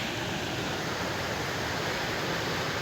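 The French Broad River rushes along beside a hiking trail, a constant broadband roar of moving water, dense and even throughout with no voices or breaks.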